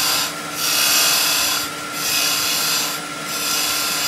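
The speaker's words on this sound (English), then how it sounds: "just so it firms up the piece as I'm drilling it" A drill bit bores into a wooden workpiece during woodturning of a Christmas pyramid part, three rasping, grinding bursts in a repeating rhythm, close and loud with no talk.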